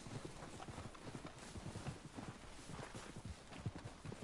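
Horse hooves clip-clop steadily at a gallop in the Western game Red Dead Redemption 2, a fast, even drumming of footfalls heard quietly and without voices.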